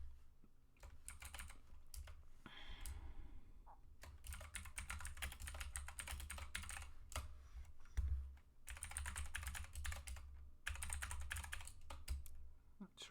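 Keystrokes from a computer keyboard clatter in quick irregular bursts as a password is entered during a Linux install, with short pauses between runs and a faint low hum beneath.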